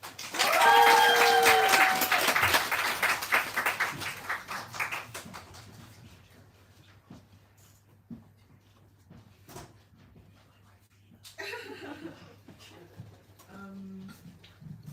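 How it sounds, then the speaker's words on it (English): An open mic audience in a small venue applauds a performer, with loud clapping and cheering for the first few seconds that fades to scattered claps, followed by quiet room noise and a few faint knocks. "A huge round of applause for JJ."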